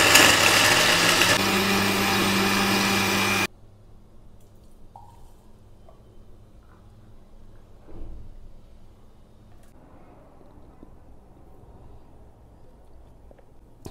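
A kitchen blender whirs through a skin-care drink with a loud, harsh, steady roar for a few seconds, then stops abruptly, leaving faint room noises and small clinks.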